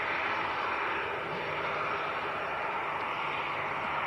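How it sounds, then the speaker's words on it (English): Jet2 Airbus A321neo airliner on final approach at Leeds Bradford Airport, heard as a steady, fairly distant jet roar that holds without a break. "Jet2 from Nice on finals, says Dean."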